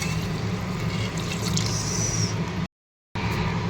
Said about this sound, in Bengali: চলো এটা দিয়ে নাড়াচাড়া করে এর মধ্যে জল দিয়ে, অনেকটাই জল দিতে হবে।